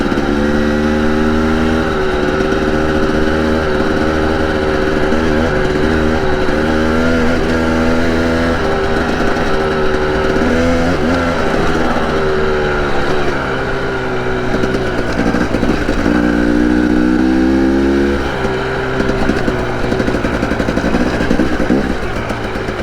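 A 2021 Husqvarna TE 300i two-stroke dirt bike rides close by, its engine buzzing and revving continuously, rising and falling through throttle changes with no talking.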